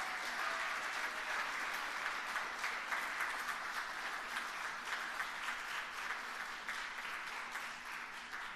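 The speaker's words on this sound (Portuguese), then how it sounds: "Palmas para ela" A room full of people applauds during a solemn ceremony honoring the Damas de Caridade charity ladies, dense sustained clapping that holds steady and loud for several seconds before easing slightly at the end.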